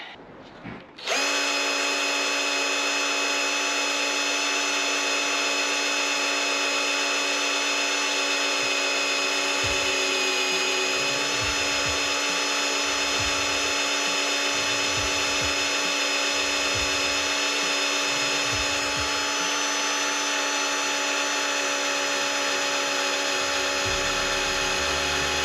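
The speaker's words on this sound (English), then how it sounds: "All right, it's time to start drilling." A power drill bores holes in a car's body to mount a spoiler, whining at a steady high pitch close by with a loud, continuous tone and some lower grinding as the bit bites.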